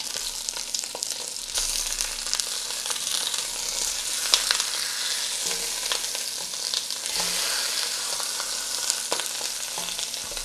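Venison shanks browning in hot oil in a frying pan, a continuous close crackling sizzle with scattered sharp pops and spits throughout, no talking.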